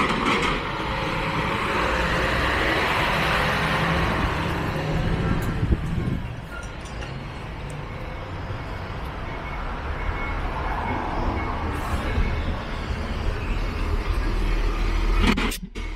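Road traffic on Osaka Prefectural Route 2, the Chuo Kanjo Line near the Kinki Expressway, with a continuous rumble of passing vehicles, one loud pass early on and another swelling near the end, no talking.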